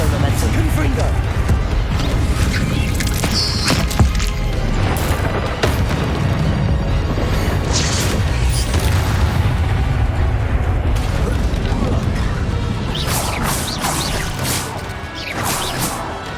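Confringo fire spells exploding in the Hogwarts Legacy video game on PC, with loud repeated blasts and crashes over dense, continuous game sound effects and music.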